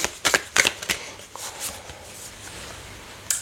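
Tarot cards being shuffled by hand, a few quick crisp riffles and flicks close up, then softer sliding rustles and a final snap, with no talking.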